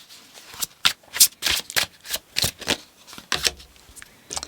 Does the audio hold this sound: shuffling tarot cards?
yes